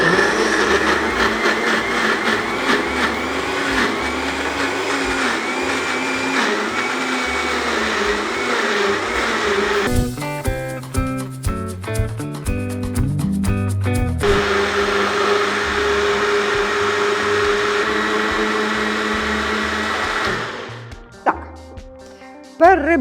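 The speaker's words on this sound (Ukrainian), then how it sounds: "зараз ми закручуємо цей блендер і будемо це все перебивати" A blender whirs loudly, blending ingredients for detox brownies in a steady motor drone, shifting to a choppier, pulsing stretch partway through and cutting off near the end.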